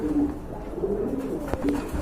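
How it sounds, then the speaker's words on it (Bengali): Giribaz pigeons cooing, a few low rolling coos in quick succession, close and clear over a soft background rumble with a brief knock near the end. "এখানে কিন্তু আরেক জোড়া গিরিবাস কবুতর আছে খুবই সুন্দর"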